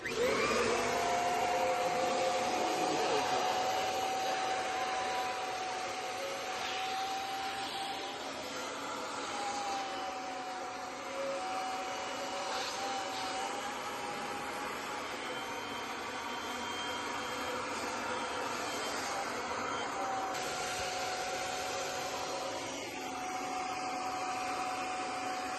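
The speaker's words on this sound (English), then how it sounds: "you can either let it out quickly or you can use your vacuum" A vacuum cleaner sucks the air out of an inflatable pool, giving a steady, loud motor whine and airy rush that holds without a break for the whole stretch.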